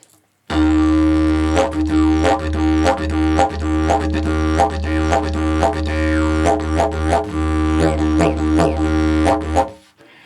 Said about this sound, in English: But you can create a more sort of what I call wackady sound,